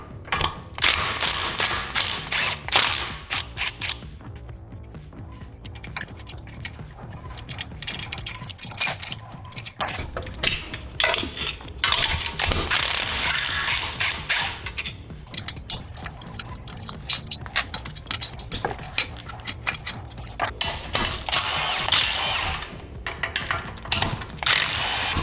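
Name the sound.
wrenching off the cylinder head of a mini bike engine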